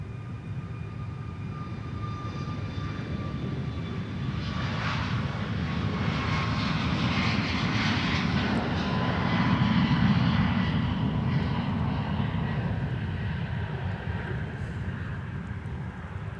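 An airplane taking off at Minneapolis airport, its engine roar building steadily to a peak and then easing as the aircraft climbs away, heard at a distance without speech.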